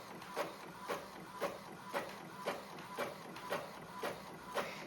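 A home printer printing sewing pattern pages, running with a regular mechanical rhythm of about nine evenly spaced clunks and whirring passes, close and fairly quiet, with no voices.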